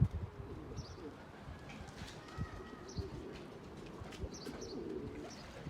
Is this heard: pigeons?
yes